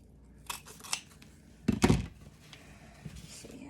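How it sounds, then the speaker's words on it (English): Scissors snip through the tails of a 4-inch patriotic ribbon on a handmade bow: two light, quiet snips, then a louder, crunchier double cut, all close by in a quiet room. "I'm gonna have to come back in and cut all these little ribbon tails down"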